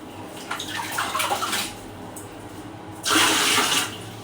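Water splashes from a tap in short bursts, then runs in a louder, steadier stream for about a second before easing off, heard up close.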